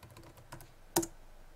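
Computer keyboard typing while a search term is entered in a Linux package manager on Debian with GNOME: a few soft, quiet keystrokes followed by one sharper, louder key click near the end, no voices.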